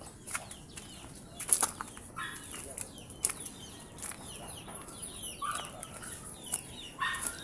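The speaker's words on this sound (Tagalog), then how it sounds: "Ayan, mga manok." Chickens cluck and call outdoors, with scattered wing flaps and rustling, fairly faint and spread across the scene.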